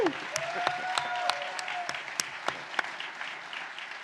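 Scattered applause from a convention audience for a composer at a PAX West music panel, with distinct individual claps standing out over a soft crowd wash and a brief whoop at the start.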